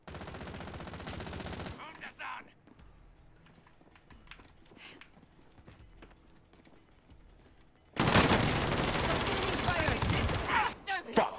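Bursts of automatic gunfire in the Call of Duty: Warzone video game, a loud sustained volley at the start and another dense burst near the end, with quieter scattered shots and game sounds between.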